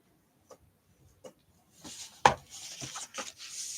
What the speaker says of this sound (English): And then you're going to fold on your score lines and burnish.